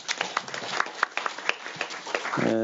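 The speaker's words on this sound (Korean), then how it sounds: "박수로 환영해 주십시오." Applause from an audience at a Korean citizenship-education seminar greets an introduced professor, a dense patter of clapping that carries steadily for a couple of seconds before a voice begins to cut in at the end.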